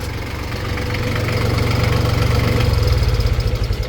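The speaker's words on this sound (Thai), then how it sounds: "นี่เดี๋ยวจะดับเครื่องให้ดูคันนี้ ดับเครื่องตรงนี้" An Iseki TS2500 tractor with a three-cylinder, 28-horsepower engine runs nearby, a steady loud diesel throb with rhythmic knocking that grows slightly stronger.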